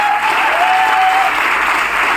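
Loud, dense applause from an audience at a Kanpur gathering, steady and sustained with no break, a faint tone drifting through it.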